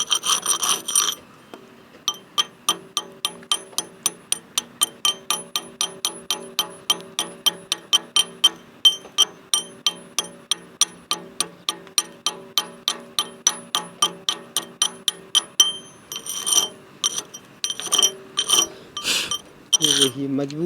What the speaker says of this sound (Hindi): अब ये ठंडा होगा तो हम इसका कार्बन छुटाते हैं